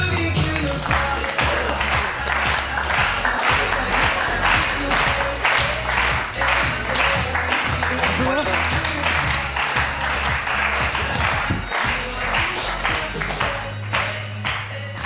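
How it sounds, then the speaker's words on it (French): Sustained applause from a studio audience on a French television talk show, a dense steady wash of many hands clapping together, loud and unbroken from start to finish, with a voice faintly audible beneath it. "Merci d'applaudir."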